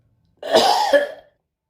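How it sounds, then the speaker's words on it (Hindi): A single harsh, throaty cough up close, lasting about a second, with silence before and after. "अरे यार खांसी क्यों आ रहा है"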